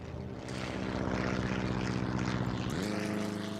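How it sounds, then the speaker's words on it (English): Propeller airplane flying past in the SimCity city-building game, a steady droning engine hum whose pitch drops sharply near the end in a pronounced Doppler shift, heard alone with no talk. "Bizarre Doppler on that plane"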